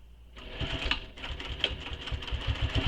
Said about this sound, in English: So top stitch all the way across.